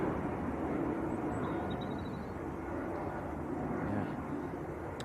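An Airbus A350neo airliner at Manchester Airport gives a steady, broad engine roar for the whole stretch, with no breaks, heard from a moderate distance.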